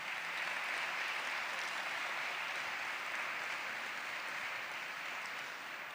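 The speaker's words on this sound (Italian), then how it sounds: "vi chiedo di ringraziare con un applauso" Sustained applause from a festival audience at an opening ceremony in Italy, a steady wash of many hands clapping at a fairly distant, even level for the whole stretch without a break.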